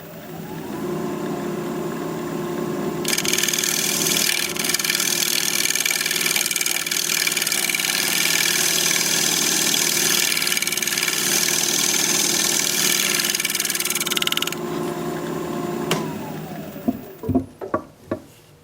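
A wood root being scraped on a lathe, a loud continuous whirring drone with a harsh scraping hiss laid over most of its length, then the tool lifts away and a few knocks follow as the machine winds down.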